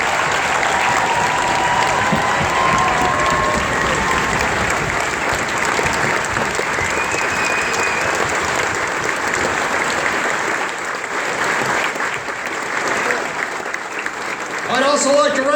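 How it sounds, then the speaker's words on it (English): Sustained applause from a large crowd at a US Army basic training graduation ceremony, dense and steady for about fifteen seconds, thinning slightly near the end. "Please join me in a huge round of applause for an American hero."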